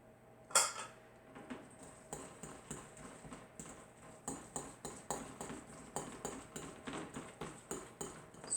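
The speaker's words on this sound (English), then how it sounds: "I'm just going to use the fork to mash that all together" A fork taps and scrapes against a bowl while mashing crab cake mixture, a sharp clink followed by a steady series of soft rhythmic scraping strokes, close and quiet.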